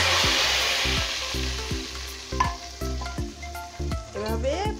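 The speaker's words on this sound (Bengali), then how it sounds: "রসুনটা একটু লালচে হলে আমি ডালের মধ্যে ঢেলে দিব।" Fried reddened garlic poured into mung dal with jackfruit bean, a loud hissing sizzle that bursts up and slowly settles, with a rhythmic low mechanical hum and a brief whistling squeal near the end.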